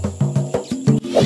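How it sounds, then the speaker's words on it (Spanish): A short elephant trumpet call from a children's jungle animal guessing game, heard as a loud, close burst of a few pulsing, roaring blasts lasting about a second. "¡Sí! ¡Es el elefante Tantor!"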